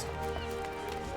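Horse hooves clip-clop in a brief, faint run of light knocks, set over a soft background of sustained music.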